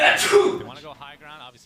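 A single sharp sneeze bursts out at the start, close and loud, then someone talks right after it.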